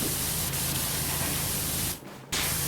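A pressure washer in Powerwash Simulator blasts a continuous hissing spray while cleaning a scorpion sentinel, loud and steady, cutting out briefly near the end before resuming.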